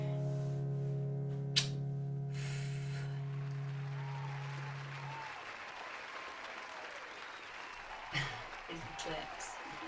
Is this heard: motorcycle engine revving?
no